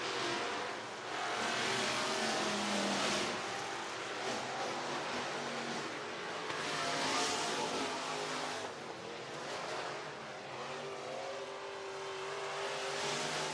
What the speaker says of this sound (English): Kane Butler crosses the start-finish line, sitting in the 9th position